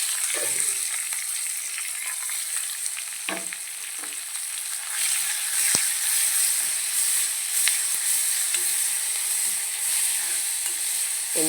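Crushed chili, curry leaves, shallots and garlic fry in hot oil with a steady, bright sizzle, interrupted by a few soft stirring knocks and scrapes, close and continuous throughout.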